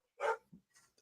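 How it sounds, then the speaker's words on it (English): A dog barks once or twice in the distance, a single faint bark followed by softer trailing yips, with no talk over it. "Excuse my dog barking in the distance."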